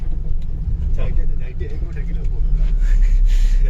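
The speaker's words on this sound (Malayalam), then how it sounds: "നമ്മുടെ JCB റോഡിലൂടെ പോകുന്നുണ്ട്." A JCB excavator drives along a road with a steady low engine rumble that grows slightly louder toward the end. People talk over it throughout.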